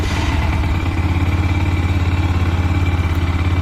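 A Lifan KPM200 motorcycle engine idles steadily near the microphone, a loud, even pulsing thrum with no talk over it.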